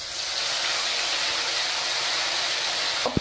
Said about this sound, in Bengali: রাঁধুনি আর জিরে ফোড়ন দিয়ে দিচ্ছি তেলের মধ্যে